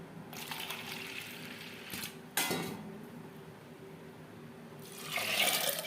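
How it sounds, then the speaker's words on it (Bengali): Water is poured into a pot of soaked matar dal, giving a quiet, intermittent splashing and pouring with some soft knocks, swelling into a fuller rush toward the end. "এখানে জল অ্যাড করলাম"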